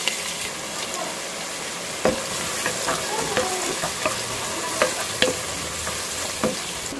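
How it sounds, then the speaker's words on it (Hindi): Sliced onions frying crispy in hot ghee, a steady close hiss of sizzling with occasional sharp clinks and scrapes of a stirring spoon against the pan. "तो हमारा घी अच्छे से गर्म हो चुका है, तो प्याज डाल दूंगी।"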